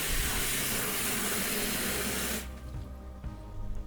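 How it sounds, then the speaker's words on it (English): Running water rinses parts of a VAGKRI evaporative cooler during cleaning, a loud steady hiss and splash that abruptly cuts off partway through, leaving quieter drips and dribbles. "We'll keep rinsing that until it all goes away."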